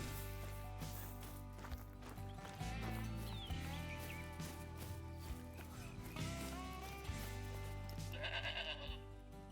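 A feral goat in the hunting game Call of the Wild gives repeated wavering bleats over a dense layer of game sound and music, with hoof-like steps between the calls.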